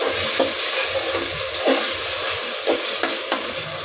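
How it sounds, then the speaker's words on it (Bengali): Ginger and garlic paste fries in a hot pan with a steady, close sizzling hiss, broken every second or so by soft scraping stirs. "আদা আর রসুনটাকে একটু ভেজে নিব, যাতে আদা রসুনের কাঁচা গন্ধটা চলে যায়।"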